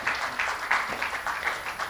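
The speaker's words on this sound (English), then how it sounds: "may I invite, amidst your applause, Lieutenant General PGS Pannu" Steady applause from an audience at an awards ceremony, a dense patter of many hands clapping at moderate volume with no voices over it.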